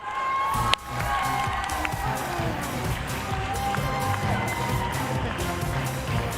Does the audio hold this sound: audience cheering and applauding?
yes